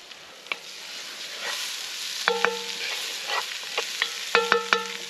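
Chopped vegetables and tomato paste roast in a very hot cast-iron pot over a campfire, a steady sizzle broken by sharp clanks and scrapes of a utensil against the pot, with no talking.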